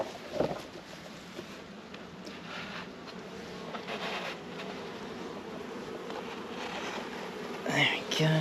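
Honey bees buzzing as they leave a box in a field, a continuous droning hum close by with a soft, busy texture and a brief louder rustle near the end.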